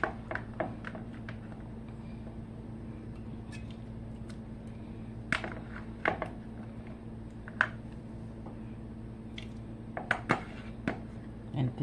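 A spoon scoops beef tips back into gravy in a cooking pot, making scattered light clinks and scrapes against the metal over a steady low hum.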